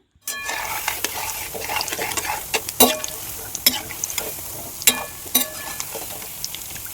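Soybean koftas fry in a pan, giving a steady close sizzle broken by sharp clinks and scrapes of a spoon as they are stirred and turned, with no talking.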